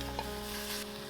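Pork and vegetables stir-frying in oil in a pot, a steady close sizzle with light scraping and stirring, no talking.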